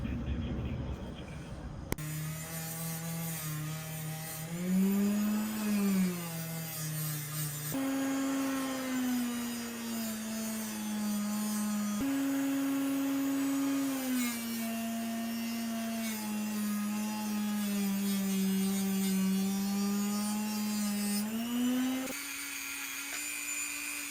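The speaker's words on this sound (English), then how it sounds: "we got to go over there on the fiber wheel and give it initial cleanup, get the wire brush" Motor-driven fiber wheel and wire brush scrubbing crud from a Boker USA Stockman pocketknife: a steady, close, whining hum that rises and falls in pitch as pressure changes, running continuously with grinding friction noise underneath.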